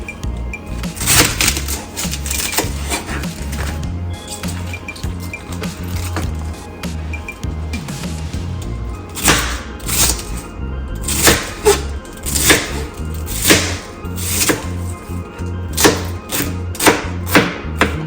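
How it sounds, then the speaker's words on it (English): A knife cuts up cabbage on a cutting board for a chicken stew, giving a loud, close, irregular run of crisp chops and board knocks with short pauses between bursts. "So let's go ahead and cut this cabbage up."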